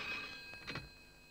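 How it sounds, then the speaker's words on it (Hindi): Faint telephone bell ringing in a Hindi film scene, a few short rings heard at low level. "सो शिबानी, रतन ढोलकिया को फोन लगाओ।"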